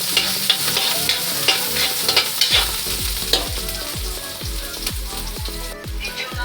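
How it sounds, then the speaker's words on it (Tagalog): Garlic and onion sauté in a hot pan with oil, a steady loud sizzle broken by repeated scraping stirs of a spatula, close up with no talking. "mag-isa na tayo ng ating bawang sibuyas."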